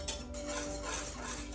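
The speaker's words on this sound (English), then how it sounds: "you're going to want to mix all those things together really, really well in the bottom of a heavy saucepan" A utensil scraping and stirring a cocoa, sugar and salt mixture in the bottom of a heavy saucepan for chocolate pie, close continuous scraping with a clink at the start and a steady background hum.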